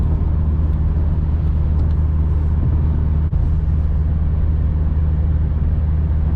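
A 2005–2008 Audi A4 B7 cruises on a highway, a loud, steady interior rumble of engine and road noise holding constant throughout with no one speaking.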